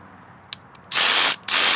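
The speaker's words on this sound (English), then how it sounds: "And we'll try the drill next" A DeWalt 12V cordless drill whirs in two short, loud bursts close by, separated by a brief pause, after a small click.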